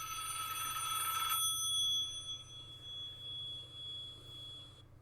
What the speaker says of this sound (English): I'm assuming that was a spammer, and they're using Curtis Hatherley's phone number